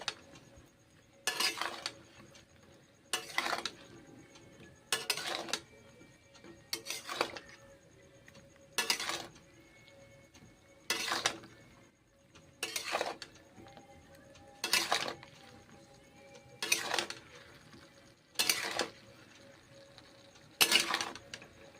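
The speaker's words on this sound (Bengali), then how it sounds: "কষে নেওয়া মশলার সঙ্গে মাশরুমগুলোকে এখন কষে নিচ্ছি।" Mushrooms being stir-fried with spices, salt and turmeric in a pan, with a spatula scraping and clinking against the metal in regular strokes about every two seconds over a faint background.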